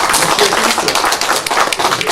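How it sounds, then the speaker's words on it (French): A crowd claps together at a radio station event in Belfort-Montbéliard, a dense, steady burst of applause filling the whole moment without pause. "Ça peut s'applaudir, hein."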